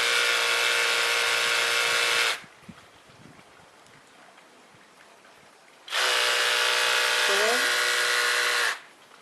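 A Blucky cordless pressure washer sprays a bucket in two loud, steady bursts of buzzing motor whine and jet noise, each about three seconds long. A quieter gap separates them.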